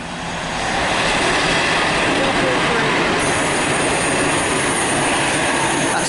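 A Pendolino train passing through Nuneaton station on the West Coast Main Line, a loud, broad, sustained roar that swells in over the first second and holds steady, close and continuous with no talk.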